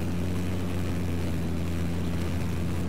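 A jet aircraft in the Battlefield 4 video game gives a steady, loud engine roar with a low droning hum that holds without a break.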